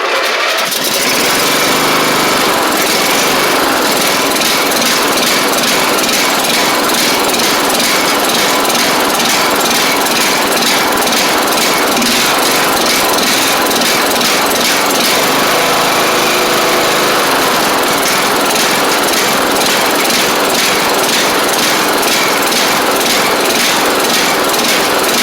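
A Craftsman LT2000 lawn tractor engine with a junk carburetor runs loudly and continuously up close, a rough buzzing roar with no pauses throughout.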